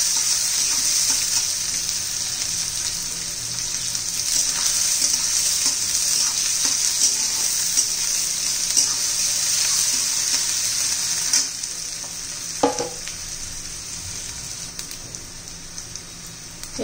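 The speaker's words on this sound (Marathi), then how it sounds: "कांदा छान असा परतून घेऊया गुलाबी रंगावर येईपर्यंत." Onion fries with green chilli in a pan, a bright, hissing sizzle running continuously, close by, with occasional stirring knocks and a brief louder scrape near the end.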